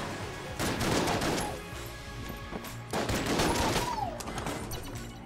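Gunfire from a mediocre weapon in the twin-stick shooter Enter the Gungeon, heard as two dense bursts of rapid shots in a row, loud and close, with no talking.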